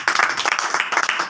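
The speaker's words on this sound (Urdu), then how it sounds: "زوردار تالیاں اس بات کے لیے۔" A church congregation claps in a brief, uneven burst of applause lasting just over a second, with clustered, overlapping hand claps.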